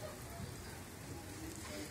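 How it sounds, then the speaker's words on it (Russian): Light rain falls steadily on surfaces in the seaside village of Divnomorskoye, a soft, even patter with no breaks. "Хоть показала вам, какой дождик у нас идет."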